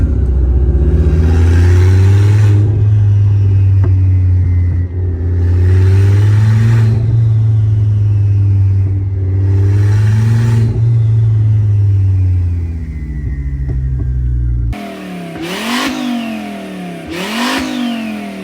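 Turbocharged 2.5-litre five-cylinder VW Jetta engine revving hard several times, each rev rising and falling loudly up close, followed by two sharper quick blips.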